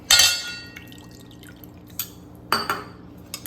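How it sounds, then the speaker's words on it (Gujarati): Half a cup of water is added from the curd bowl into semolina batter, giving a short splashy pour followed by a few scattered drips and light clinks, close and quiet. "અડધો કપ પાણી એડ કરી લીધું છે આપણે."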